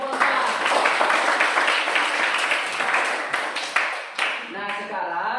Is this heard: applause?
yes